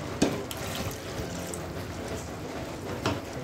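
Water poured into a pan of chicken curry, a steady liquid rush and splash with a couple of sharper clatters, close and moderately quiet, no voices.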